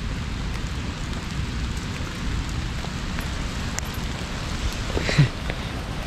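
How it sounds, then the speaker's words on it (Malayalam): Hailstones fall steadily on a mountain trek, making a dense, continuous patter of hits all around, with one louder knock near the end. "ആലിപ്പഴം ആണെന്നാ തോന്നുന്നു, മഞ്ഞല്ല. ഇപ്പം ഹിൽ സ്റ്റോൺ പെയ്യാണ്"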